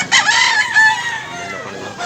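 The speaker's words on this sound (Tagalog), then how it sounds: "Daghang manok" A loud rooster crow rings out close by at a chicken market in Mantalungon, Cebu, a long drawn-out call with clucking hens mixed in behind it.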